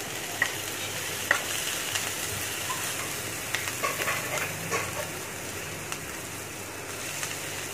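Chicken samosa filling of boiled shredded chicken, onions, green chilies and coriander sizzles steadily in a pan, with occasional clinks of a spoon stirring.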